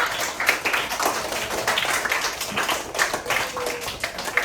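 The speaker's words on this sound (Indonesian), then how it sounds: "tepuk tangan dulu untuk diri sendiri yang teman-teman" A classroom of children claps for themselves, a dense, steady patter of many small hands that carries on throughout at moderate loudness, with no talk over it.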